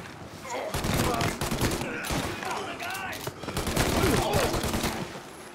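Rapid bursts of gunfire in Mafia Definitive Edition, dense overlapping shots from several weapons crackling loud and close for the whole stretch, with voices faintly underneath.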